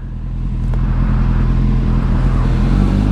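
An electric motorcycle pulls away quickly, giving a steady whirring drone with a low rumbling hum that stays loud and even throughout, with no talking.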